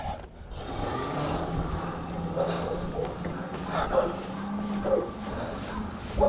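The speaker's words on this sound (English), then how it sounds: "Got the dog is barking at us." A dog barks a few times at pressure washing workers arriving at a job. The short barks are spread across the stretch over a steady motor hum and outdoor noise, and someone talks quietly in between.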